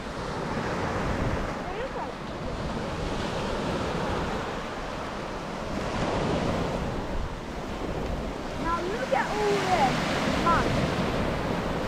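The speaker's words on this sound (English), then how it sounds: "There you guys go, the raging ocean." Rough open-sea waves and surf near Dalyan, Turkey, heard from a boat as a continuous loud wash with wind buffeting the microphone and occasional voices under it.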